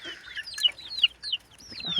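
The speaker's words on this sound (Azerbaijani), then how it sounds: "Baxın qazlara nə qəşəng." Geese and goslings call outdoors on grassy ground, a run of short, thin, upward-sliding peeps and chirps in quick, uneven bursts, close and moderately loud with no talking.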